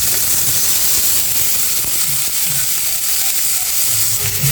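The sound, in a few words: onion and garlic frying in hot mustard oil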